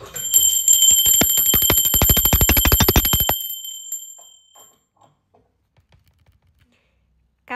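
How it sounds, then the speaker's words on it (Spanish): An electric bell rings in a rapid continuous trill for about three and a half seconds, loud and close, then stops, leaving near-silence with a few faint ticks. "Ahora sí, va campana."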